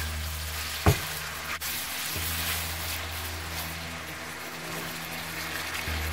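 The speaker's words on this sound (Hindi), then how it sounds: "बस बोटी को हम फ्राई कर लेंगे अच्छी तरह।" Half a kilo of chicken pieces frying with garlic ginger paste in a pot for a murgh handi, a steady low sizzle with a brief stirring knock near the start.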